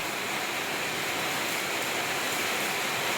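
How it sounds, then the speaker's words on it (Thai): Heavy rain pours down steadily at night in a rural Thai setting, a continuous broadband hiss with no breaks and no voices. "ฝนก็ตกอีหลีเนาะเบิดมื้อเนาะ"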